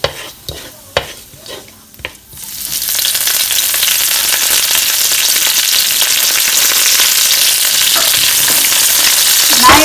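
Curry leaves dropped into hot oil with fennel seeds in a pan: a few light clatters and taps, then a sudden loud, steady sizzle that keeps going, close by with no talk.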